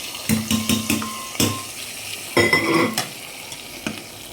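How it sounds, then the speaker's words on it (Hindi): Onions being stirred and fried with spices in a pressure cooker for mutton curry, a spoon scraping the pot in a run of quick strokes over a steady close sizzle. "और इसको अच्छे से मिक्स करके भून लेंगे।"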